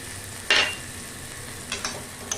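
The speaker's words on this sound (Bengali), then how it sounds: "এরপরে আমি এটাকে ঢেকে ঢেকে ভালো করে কষিয়ে নেব" Mutton curry with salt and slit green chillies cooking in a pan, a steady low sizzle broken by a sharp stir scrape and a few smaller clinks of the spoon.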